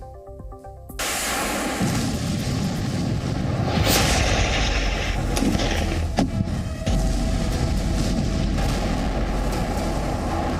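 A loud, heavy blast after a brief quiet start, followed by continuous roaring rumble with sharp cracks and booms, from bombing, drone and missile strikes in the Russia-Ukraine war.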